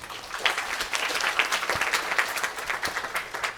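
An audience at a camp graduation ceremony claps steadily, a dense, moderately loud patter of many hands with a few sharper individual claps standing out.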